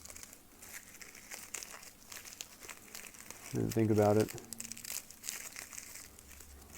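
Poor-quality scissors cut into crinkly plastic packaging, giving off scattered crackles and one louder crunching burst, while a person talks throughout.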